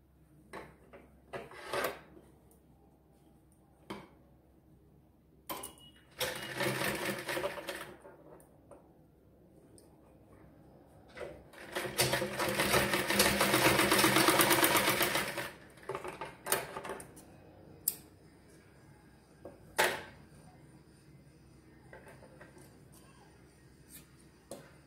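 A home sewing machine stitches a girl's frock in short bursts, with one longer sustained run in the middle, separated by quiet pauses and sharp clicks and knocks of handling, close and fairly faint.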